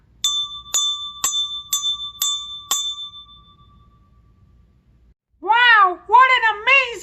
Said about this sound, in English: the bell tower will ring when it reaches 1 o'clock